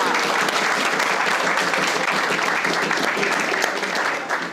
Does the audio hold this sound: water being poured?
no